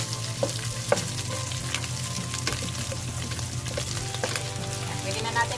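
Butter sizzles loudly and steadily in a hot frying pan for a Filipino ginamay dish after pure lean meat has been browned. The dense frying hiss runs continuously, broken by faint pops and clinks.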